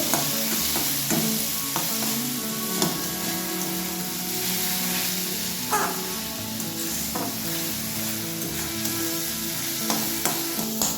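A lentil mixture with chopped green chili is stirred in a frying pan, a steady sizzle running throughout with scraping strokes of the spoon breaking through every second or so, close and alone without voices.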